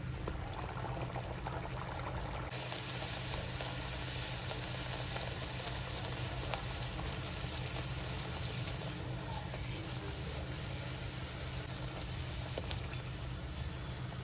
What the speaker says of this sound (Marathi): तर मंडळी आता मी सगळ्या याच पद्धतीने पुऱ्या करून घेते, सगळ्या तळून.